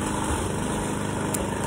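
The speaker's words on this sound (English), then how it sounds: "Like right now, the lawnmower's going on," A lawnmower runs nearby, its engine giving a steady, loud, continuous drone with no pauses.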